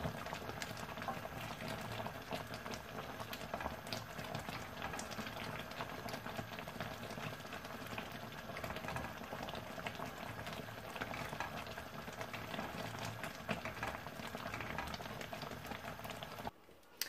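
Apricot jam cooks at a steady boil in a pot, a dense, continuous bubbling and popping heard up close, cutting off abruptly near the end.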